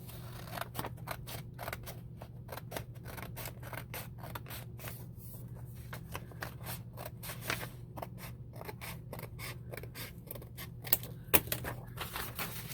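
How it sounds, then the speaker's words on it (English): Scissors cutting along the fold of folded paper for an altered book page, making a quick run of crisp, close snips over a low steady hum, with no voices. "Just gonna cut along where I folded it."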